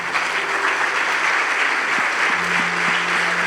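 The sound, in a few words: applause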